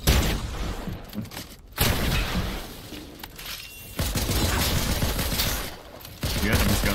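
Dense video game gunfire comes in repeated sustained bursts of rapid shots, loud and close, separated by brief lulls.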